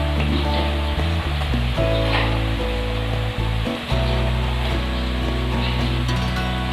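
Eggplant slices frying in a pan for a coriander brinjal dish give off a steady sizzle, with a few soft clatters and bumps as the pieces are arranged.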